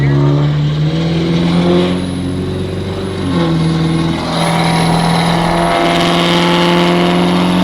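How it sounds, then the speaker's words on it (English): A deep, throaty dually truck engine, a 5.3 V8 with straight-pipe exhaust, rumbles steadily, its exhaust note rising and falling as it revs, loud and close with a brief dip midway. "Wait for the exhaust note here."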